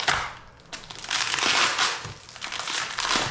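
Heavily taped packaging around a DRW skid plate for a TRX450R ATV is cut and torn open, giving close, bursty crinkling and crumpling with no talk.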